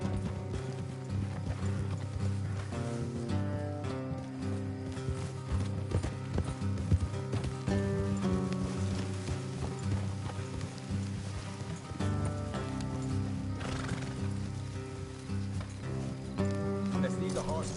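Horses clip-clop along in the Western video game Red Dead Redemption 2, hoofbeats running steadily under game music and talking characters.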